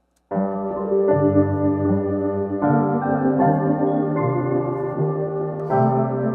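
A swirly synth lead steps down a scale in sustained, overlapping notes, warm and continuous with a wavering, modulated tone.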